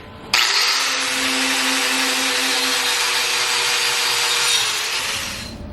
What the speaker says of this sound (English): I'm going to take my grinder, I'm going to grind those down, and then I'm going to take my wire wheel to it